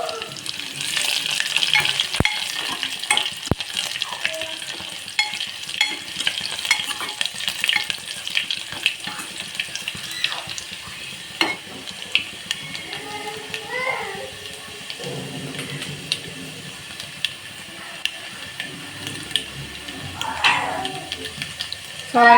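Garlic cloves frying in a pan, a steady close sizzle with stirring scrapes throughout, under intermittent talk and background voices.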